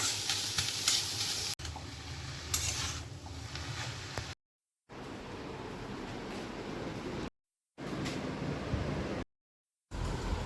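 Pieces of cut shrimp sizzle and crackle in a hot pan with a little water while being stirred, a steady close frying hiss broken by brief silent gaps, with no talking.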